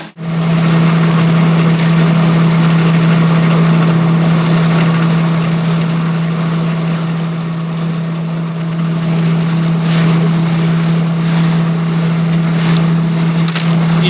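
Grain winnowing machine running steadily, with a strong constant motor hum and a dense rattling clatter of grain and moving parts, loud and close, and occasional sharper knocks.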